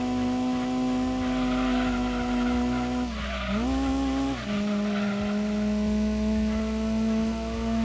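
A car engine in Gran Turismo 2 on PS1 drones at a steady high pitch with a whiny, buzzing tone, dipping briefly and then rising again before settling back to its constant hum.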